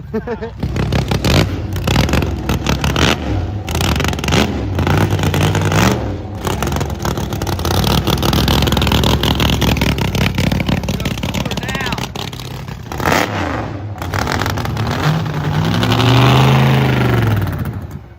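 A 1,500-horsepower limousine built for drag racing roars at full throttle down the strip, a loud, sustained engine blast with wind buffeting and excited voices talking over it.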